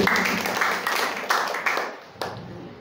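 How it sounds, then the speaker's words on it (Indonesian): A congregation claps at a Christmas church service, giving a short, moderately loud burst of hand claps that thins out and fades within a few seconds. "Kita tepuk tangan untuk ibu-ibu dulu."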